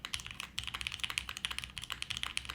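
Fast typing on a HEX4B mechanical keyboard, with a dense run of crisp clacky keystrokes in an uneven rhythm, close and moderately quiet, with no voices.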